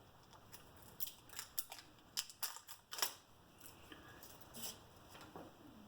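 A thin plastic wrapper is torn off a new golf grip with a quick series of sharp crinkling rips and crackles, close up and fairly faint, in a quiet room.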